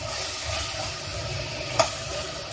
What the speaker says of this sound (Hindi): हम इसकी बस 1 से 2 मिनट और इसकी भुनाई कर लेते हैं